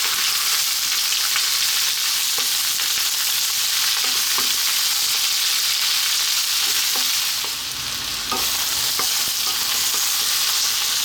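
Potatoes and onions fry loudly in a pan for Ethiopian spinach and potato gomen, an intense close sizzle with occasional stirring scrapes and clicks, dipping briefly near the end.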